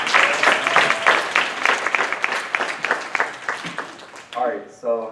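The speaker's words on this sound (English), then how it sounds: "Give them a round of applause." A room full of people clapping loudly for the introducers at a patriotism event, sustained brisk applause that stops near the end as a voice begins.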